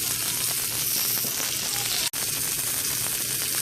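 A NY strip steak sears in a hot pan with a loud, continuous close sizzle and crackle that breaks off for a split second midway.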